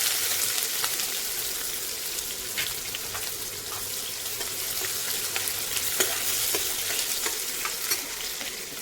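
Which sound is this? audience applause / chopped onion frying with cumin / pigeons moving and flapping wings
chopped onion frying with cumin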